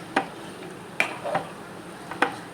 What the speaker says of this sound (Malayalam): ഇനി അതൊന്ന് നന്നായിട്ട് ഇളക്കി കൊടുക്കുക